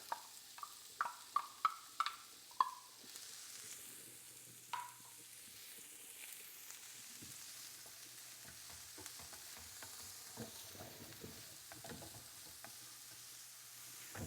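Onions hitting hot oil give several sharp clatters at the start, then a steady, low sizzle that continues at moderate volume with occasional stirring scrapes, and no one talks.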